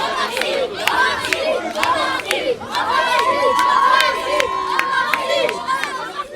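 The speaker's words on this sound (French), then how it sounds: "Omar Sy est ému devant cette foule qui l'appelle" A large crowd shouts and calls out to actor Omar Sy at the inauguration of a renovated municipal cinema in his hometown, loud overlapping voices and cheers rising and falling continuously, close by.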